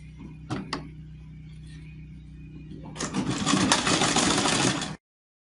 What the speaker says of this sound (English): let me finish sewing this part